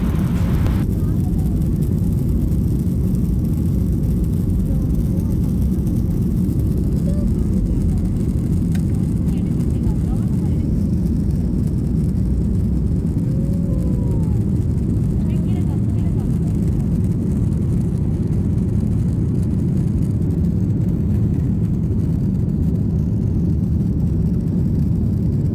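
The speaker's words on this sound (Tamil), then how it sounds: "ரன்வேல வந்து நல்லா ஹை ஸ்பீட்ல போக ஆரம்பிச்சிருச்சு." A passenger airliner roars steadily as it speeds down the runway on its takeoff roll at Oman International Airport in Muscat, the heavy low engine rumble filling the cabin and holding loud and constant throughout.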